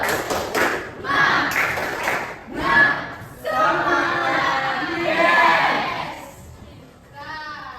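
Eighth-grade students in a junior high music class clap in short rhythmic bursts, a group sound with a brief pause before another burst, and voices mixed in throughout.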